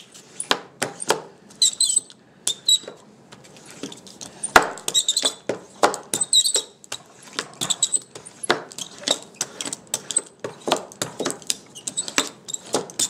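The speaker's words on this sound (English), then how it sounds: "The super squeaky brayer again." A very squeaky brayer rolls back and forth in several directions over paper laid on an inked printing block, giving rapid repeated squeaks and rubbing strokes with brief gaps, close and fairly loud.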